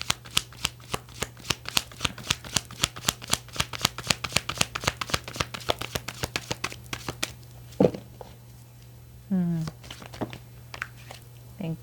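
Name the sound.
shuffling tarot cards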